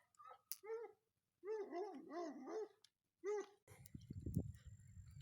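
Several dogs barking in a rural neighborhood, short bursts of moderately distant barks in rhythmic runs with pauses, followed by closer rustling and scuffing.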